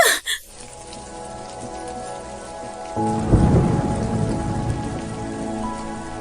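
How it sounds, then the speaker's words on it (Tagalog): Steady heavy rain hisses throughout, and a deep, rumbling thunderclap rolls in midway and lingers under the downpour. "Ang lakas ng ulan."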